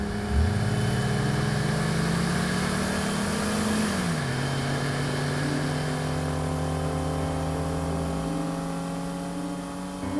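Racing car engine on race day revving up and then holding a steady droning pitch for several seconds before easing off, loud and close with a constant background hum.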